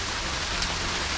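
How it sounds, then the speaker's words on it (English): Steady hiss of rain pouring down at a campsite during a winter storm, a dense even wash of drops close by with no talking. "it looks like a rain"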